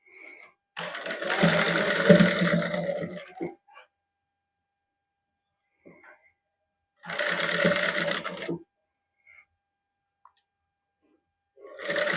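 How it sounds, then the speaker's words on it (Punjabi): An electric sewing machine stitching lace along the crease of a lined suit, running in two steady whirring bursts of a few seconds each, separated by quiet pauses with faint handling clicks. "ਇਹ ਸਲਾਈ ਵੀ ਆਪਾਂ ਇਹਦੇ ਕਰੀਜ ਦੇ ਉੱਪਰ ਹੀ ਲਾਵਾਂਗੇ"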